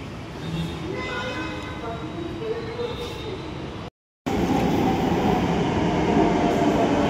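A Hyderabad metro train at the Hitech City station platform gives a steady loud rumble with faint tonal whine, broken by a short silent gap, then continuing as a dense roar.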